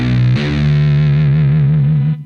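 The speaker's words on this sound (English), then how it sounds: "Let's listen to this patch. I have a bass patch." A guitar effects pedal running a bass preset patch gives a loud, thick, distorted low tone held for about two seconds, wobbling slightly with a chorus-like modulation before cutting off abruptly.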